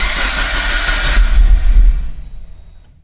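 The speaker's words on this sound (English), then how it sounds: "the car doesn't turn over. It will crank though." A Mitsubishi Evo IX GT-A wagon engine cranks with a steady low churning from the starter for about two seconds without catching, then trails off into silence.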